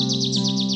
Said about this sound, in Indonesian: seekor burung warna-warni terbang di atas kepalanya